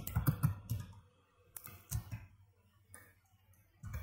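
Quiet, close clicks of a computer keyboard come in short bursts of typing commands separated by brief pauses.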